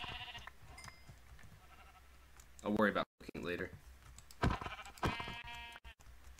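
Sheep in Minecraft bleat a few times in quick succession, mixed in with a voice speaking over game sounds and faint keyboard typing.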